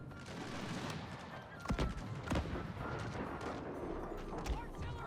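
Concentrated musket volleys in a Total War American Civil War battle crack out in a dense, continuous fusillade, a few louder shots standing out over a steady background of battle noise, fairly distant and muffled.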